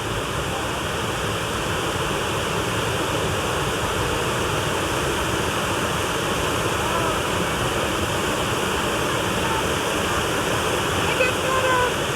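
Steady, full-bodied rush of a waterfall in the mountains of Cloudland Canyon State Park, Georgia, filling the scene with continuous broadband roar and no breaks or speech.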